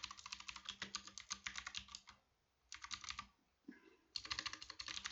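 Fast typing on a computer keyboard, close and quiet, in quick clattering bursts broken by short pauses, with no talking.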